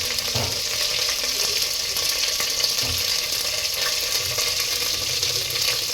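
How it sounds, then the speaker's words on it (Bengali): Water poured into a hot pan of sizzling whole spices (bay leaf, cinnamon, cardamom, cloves) for fried-rice khichuri, a steady close hiss and bubbling that runs for the whole stretch with no talk. "অল্প পরিমাণ পানি দিই।"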